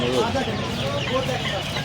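Chickens cluck and a rooster calls among the birds at a rainy-season hen market in Uluberia, blended with close talking and steady market chatter.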